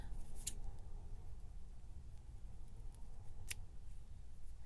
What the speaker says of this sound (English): you might have to end up cutting some of this thread